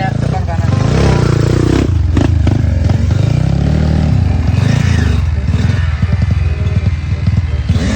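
A Kawasaki KX85 dirt bike is ridden hard through thick mud in Hambalang, its two-stroke engine loud and close as it revs and bogs, with clatter and scraping of the bike over the rough track.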